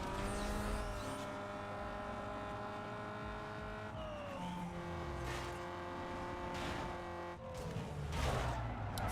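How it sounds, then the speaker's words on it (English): A news truck drives in a video game, its engine droning and shifting pitch as it revs, with tire noise and scrapes rising toward the end. "Fucking news truck."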